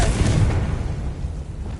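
A Confringo spell blast in Hogwarts Legacy, one loud, close, booming burst that decays over under two seconds.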